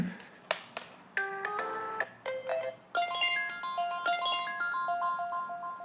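An iPhone 6S ringtone with water in the speaker plays a bright, electronic melody of rising and repeating tones, starting with sparse notes and building into a busier tune.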